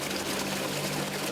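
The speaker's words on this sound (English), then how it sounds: "The water rushes in." Water rushing into the cabin of a sinking car, a loud, steady pouring roar that stays close and constant with no talk over it.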